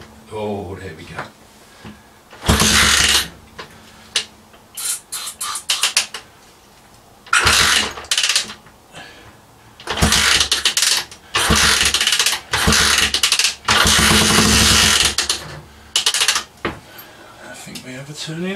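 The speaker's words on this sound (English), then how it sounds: "I think we have a turning engine." A barn-find Honda CG125 motorcycle engine is cranked over in repeated loud bursts with short gaps between them, close by, while people talk around it.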